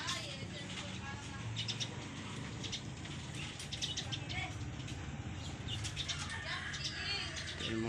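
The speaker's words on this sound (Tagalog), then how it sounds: "Sabay-sabay na silang nagre-ranging dito mga kalapatids." Pigeons flutter and flap around a homemade perch, with bursts of wingbeats and faint chirps mixed into a busy outdoor background while someone talks over them.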